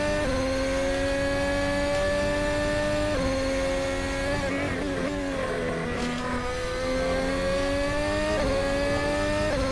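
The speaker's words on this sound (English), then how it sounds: "Let's see how Conor Peltmans takes a lap around the Canadian Grand Prix." A racing car laps the Canadian Grand Prix circuit, its high-revving engine screaming continuously up through the gears with brief drops at each shift and a deeper dip in pitch under braking midway.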